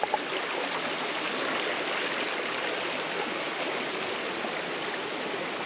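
A small waterfall on a walking trail along Tasmania's east coast, giving a steady, broad rushing wash of falling water that stays even and fairly close throughout, with no voices.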